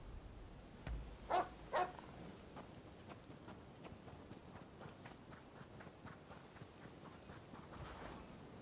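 Dog barks in the Rise of the Ronin video game, two or three short barks early on over a steady bed of ambient game noise and soft footsteps, with no talking.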